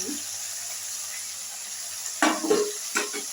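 Beans and potatoes with nigella seeds, turmeric and salt cook in a pan with a steady, quiet sizzle, then a few louder stirring scrapes and clatters come near the end.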